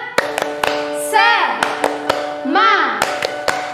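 Children at an online Sunday school session do a rhythmic cheer clap, with sharp isolated claps in a pattern between two rising and falling shouted voices, close and loud.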